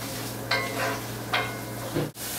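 Onions stirred and softening in a pan for spaghetti, a constant close sizzle broken by several scraping stirs and a brief clatter, no voices.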